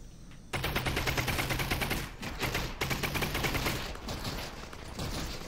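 Rapid automatic SMG fire in the VR game Half-Life Alyx, long close bursts broken by short pauses, loud and dense, with no voices over it.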